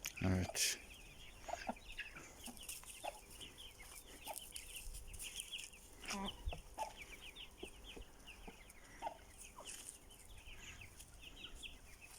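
Several hens cluck and chatter inside a coop, steady overlapping calls with a few louder close squawks, while a person speaks briefly nearby.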